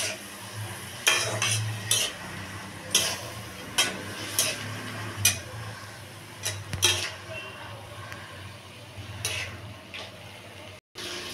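Spices with chili, turmeric, cumin and coriander powder are stirred and sautéed in a pan for a dalna, with repeated scraping strokes and light clinks over a soft, steady sizzle.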